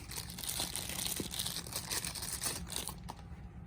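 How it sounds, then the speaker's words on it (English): Packaging around a Gerber multi-tool is opened with close, busy crinkling and tearing of plastic and card. The rustle is continuous for a few seconds, with no speech. "So let's open this Gerber up real quick."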